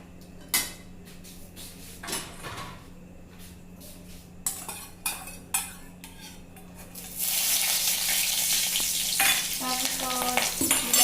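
Puthi fish pan-fry as a utensil stirs them, with several sharp scraping strokes at first, then a loud, dense sizzle that takes over for the second half with more scrapes and clinks.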